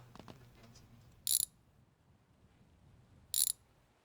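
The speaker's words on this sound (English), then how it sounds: "we're going to undo the cab bolts on here" A ratchet undoes the cab bolts on a Mercedes wagon in a garage, heard as two short bursts of rapid metallic clicking about two seconds apart against quiet background, with faint knocks at the start.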